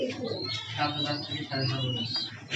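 Lovebirds and cockatiels at a large bird farm in Jashore chirp and coo in a busy, overlapping chorus, close by, while someone talks over them.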